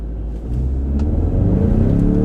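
A Ford Mustang EcoBoost launches hard from a street stall-up and accelerates toward 60, its engine note climbing loud and close in one continuous rising pull.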